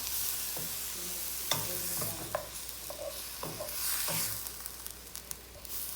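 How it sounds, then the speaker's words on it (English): Meat browning in a pan, stirred with a wooden spoon, with quiet scraping strokes and soft knocks in a loose rhythm over a faint steady sizzle, close and low in level. "when you're browning meat, use a wooden spoon as opposed to a rubber one or a silicone one"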